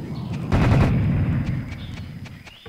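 Sniper gunfire in the video game Serious Sam HD, a sharp loud shot followed by a ringing decay and a few fainter distant pops, with no talking.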